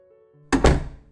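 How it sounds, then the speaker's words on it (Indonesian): A door that was not locked is forced open as a sound effect: a single heavy thunk with a quick second impact, loud and close, after a quiet moment. "Gano mendobrak pintu yang tidak dikunci."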